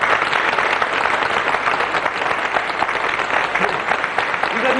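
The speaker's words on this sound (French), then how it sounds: "Je vous demande de les applaudir." Studio audience at a 1983 French television game show in Paris breaks into steady, dense applause, sustained and fairly loud throughout with many hands clapping at once.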